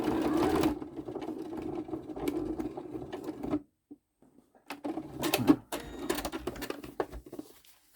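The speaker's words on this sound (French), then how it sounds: "on vient terminer de coudre. Point d'arrêt." A sewing machine stitches a zipper pouch for dog waste bags, running in steady close bursts with a pause in the middle before a final spurt to lock the seam.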